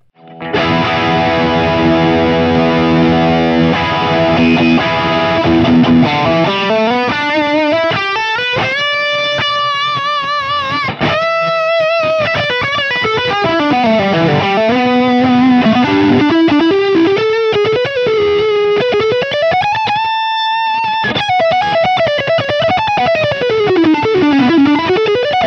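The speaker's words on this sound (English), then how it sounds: "And then the Tube Screamer sounds like this." Electric guitar through a Tube Screamer overdrive pedal on an AX8 gig preset, loud and saturated, starting with strummed chords then moving into sustained lead notes with wide vibrato and bends, no talking.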